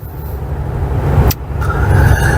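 A car on the road, heard from close by: a steady low engine and road rumble throughout, with a brief sharp click partway through.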